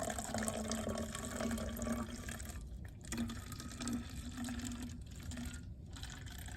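Water pours into a plastic bottle, a continuous splashing, gurgling flow at moderate level with brief dips, and no talking.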